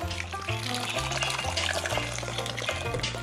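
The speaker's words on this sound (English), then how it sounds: "Pour that whole can of beer in there" A whole can of beer glugs and splashes into a bag to make beer batter for deep-fried tilapia, a steady, close pouring sound with no talk.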